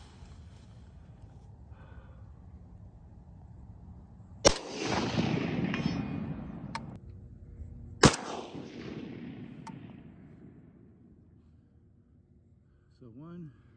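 Two sharp G3K rifle shots a few seconds apart, each a loud crack followed by a long, rolling echo that fades, with quiet talk in between.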